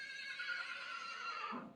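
A horse whinnies at a livestock market for donkeys and horses in Tandlianwala, Pakistan, one long quavering neigh held steadily, then dropping to a lower snort at the end, fairly close.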